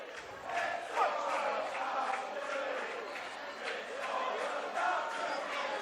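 Home fans at a Sheffield Eagles rugby league match applaud in a steady crowd wash, broad and distant, rising in a couple of swells with faint shouts mixed in.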